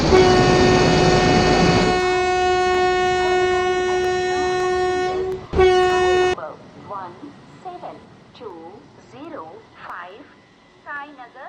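The Sainagar Sriredi Kakinada Express sounds a long, loud steady horn blast, then a second short burst, followed by chirping birds and station ambience as the train arrives at the platform.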